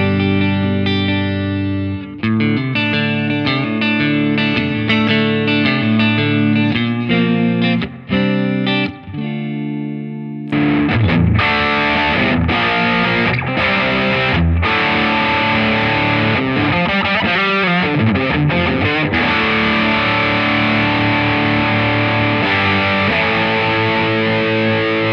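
Electric guitar played through a Laney Lionheart Foundry amp with an effects pedal, starting with a clean tone of ringing chords and picked notes before switching to a fuller, effected sound, loud and continuous without talk.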